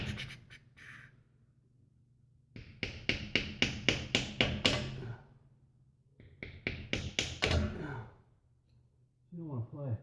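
Bursts of sharp, rapid metallic hammer strikes in quick rhythmic runs while installing a stabilizer bar on a 1957 Chevy 150 wagon, with quieter gaps between the volleys and a brief voice near the end.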